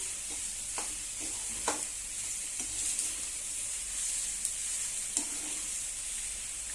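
Cooked pasta being stirred into masala gravy in a hot pan, a soft steady sizzle with occasional scraping taps of the spoon, close and fairly quiet, no talking.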